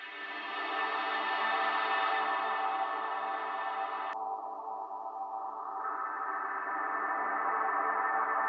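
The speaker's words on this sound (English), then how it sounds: "you can actually turn this into like a string or a pad instrument if you just take the EQ, throw it after, and cut out a lot of that high end" A sung vocal processed into a warm pad with EQ cutting away the high end, sustaining as a smooth, steady tone that darkens abruptly midway and then swells slightly again, with no talking.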